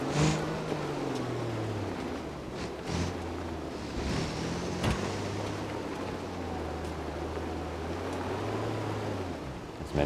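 A small Autobello Stambecco truck driving off-road through Johnson Valley in BeamNG.drive, a steady low engine drone that rises and falls with throttle, with wind-like rushing noise over it throughout.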